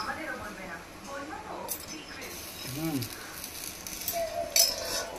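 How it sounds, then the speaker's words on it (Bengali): Cooking oil sizzling and crackling in a hot karai while chicken feet are being prepared, a steady frying hiss running beneath a person talking. "কড়াই আমাদের গরম হয়ে গেছে, এখন তেল দেবো, পরিমাণ মতো তেল"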